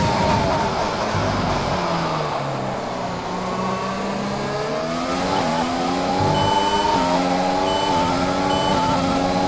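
An F1 race car engine in the F1 2020 video game roars steadily and loudly through a final corner, its pitch dipping and then climbing as the car accelerates out.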